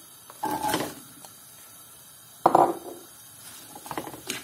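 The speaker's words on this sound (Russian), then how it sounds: "Сейчас положим яблоки." Two or three soft clattering thumps of food dropped into a pan, with brief sizzling bursts following each, fairly quiet and close.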